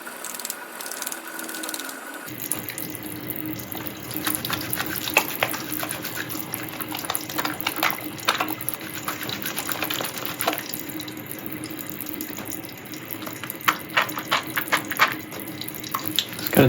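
A tap runs warm water into a sink for a hand wash, a steady hiss and splash that starts after a short quiet moment and carries on without pause, with faint clicks and rubbing mixed in.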